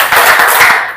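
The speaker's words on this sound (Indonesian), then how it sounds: "kalau saya bilang pagi, tepuk tangannya 3 kali" An audience claps in unison, three quick, sharp claps in a burst, loud and close.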